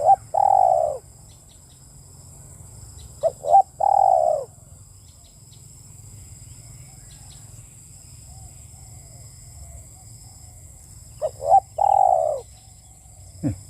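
Spotted dove giving three bursts of deep, hooting coos, near and clear against quiet background hum, long pauses between calls.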